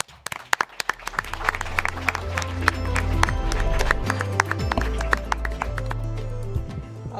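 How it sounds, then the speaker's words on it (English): Applause from a conference audience welcoming a session moderator: a few scattered claps at first, swelling into full sustained clapping over a low room hum and holding steady to the end. "I'm always happy to receive the applause in the beginning"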